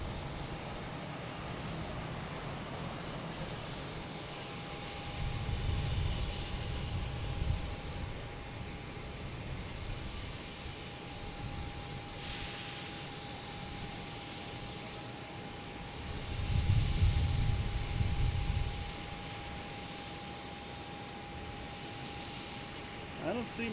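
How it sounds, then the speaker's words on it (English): An Air Portugal airliner takes off at Boston Logan Airport, a steady broadband jet roar in the distance with two louder low rumbling swells, under a constant tone and occasional voices nearby. "We got Air Portugal lining up takeoff"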